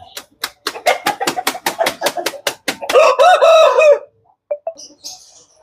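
A lightweight Aseel rooster gives a quick run of sharp, rhythmic clucks, then lets out a loud, close crow lasting about a second. A few faint clucks and scattered noises follow.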